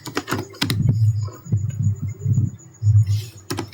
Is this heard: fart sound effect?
no